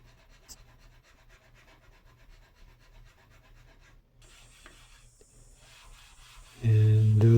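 Steady light rasping of fine sandpaper rubbed along the edges of a solid wood frame, continuous and close, ending in a sudden loud low thump.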